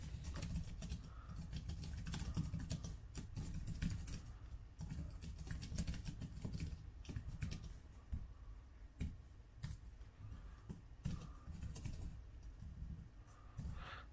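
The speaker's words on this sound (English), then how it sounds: "I'm going to start typing." Quiet, steady tapping of keys on an IVSO iPad Pro 9.7-inch keyboard case in irregular bursts, close by, with no talking.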